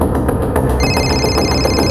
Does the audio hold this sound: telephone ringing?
yes